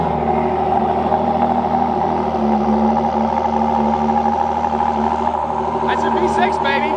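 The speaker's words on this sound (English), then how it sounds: "That's a V6, baby, with 2 turbos" A Ford hypercar's twin-turbo V6 idles with a steady, loud, tonal drone that holds evenly throughout, and people talk over it.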